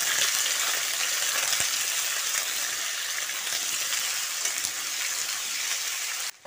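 Cut potatoes frying in hot oil with dried red chillies and nigella seeds, a steady close, loud sizzle that holds evenly throughout and cuts off abruptly at the end.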